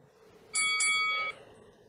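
Two quick metallic rings of an ambulance station call bell, bright and close, sounding in rapid succession and then stopping, in an old-time radio drama.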